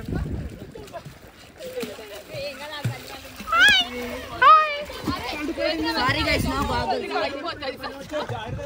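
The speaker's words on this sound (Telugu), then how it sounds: "వాటర్ చేపలు కొట్టుకుంటున్నట్టు కొట్టుకుంటున్నారు వీళ్ళు" Water splashing and sloshing amid lively chatter and children's voices at a farmhouse party, with excited calls rising over the play.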